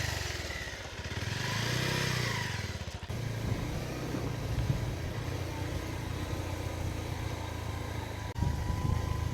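Motorcycle riding up the Darjeeling hills toward an offbeat hill village, its engine droning steadily up close, with a brief dip and a shift in tone around the midpoint.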